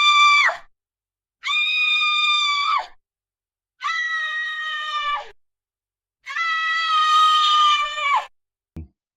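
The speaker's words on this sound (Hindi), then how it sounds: "हवेली के हर कोने से चिल्लाने, रोने और कराहने की आवाजें आने लगीं।" Four long, drawn-out wailing screams, like moaning cries echoing through a haunted mansion in a horror story, each lasting a couple of seconds with silent gaps between them, loud and close, followed by a brief knock at the end.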